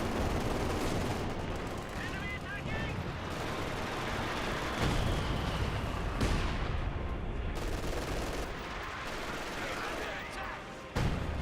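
Panzerwerfer rocket artillery barrage in Company of Heroes 2, a dense, continuous roll of launches and blasts with sharp bursts, heavy throughout and under faint talk.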